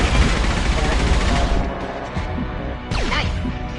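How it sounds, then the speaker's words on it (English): Heavy gunfire rattles in a battle in the video game Mass Effect 2. Dense bursts of shots and impacts run under a loud mix with a descending whoosh near the end, and faint game voices sit in the background. "Taking heavy fire."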